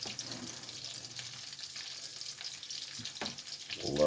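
Black-eyed peas fry in lard and bacon grease, giving a steady close sizzle throughout with a few soft clinks near the end.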